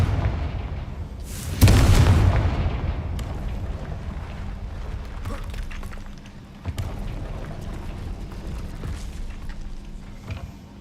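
The Confringo blasting spell in a magic video game sets off a loud booming explosion, followed by a long rumbling tail and scattered crackles and rattles as it fades.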